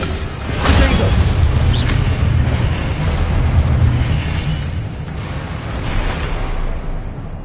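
Confringo explosive spell blasts in the video game Hogwarts Legacy, loud booming explosions with whooshing bursts and rumbling tails, close and sustained over several seconds.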